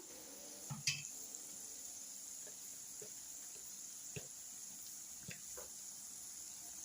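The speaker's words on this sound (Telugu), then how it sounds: "మూత తీసుకొని కలుపుకుందాం ఒకసారి" A spoon scrapes and clinks against a pan as mutton boti and tomato are stirred while frying, with a faint steady sizzle underneath and a few sharp metallic taps spaced across the moment.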